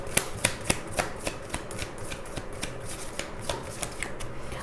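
Tarot cards shuffled by hand, a run of crisp riffling snaps and flicks in close succession, the strongest near the start, then softer steady card rustling with no talk.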